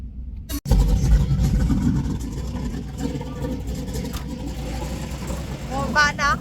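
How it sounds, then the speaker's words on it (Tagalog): A car engine rumbles loudly and steadily near a restaurant in Columbus, Texas. People talk over the noise throughout. "Ang ingay na sasakyan"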